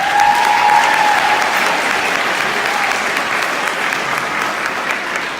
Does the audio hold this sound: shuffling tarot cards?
no